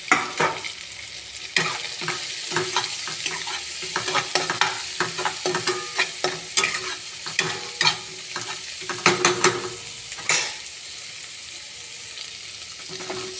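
Turmeric, salt, chili powder and dried fenugreek leaves fry and are stirred in a pan for egg tadka, with a steady sizzle under repeated scraping spoon strokes, close and fairly loud.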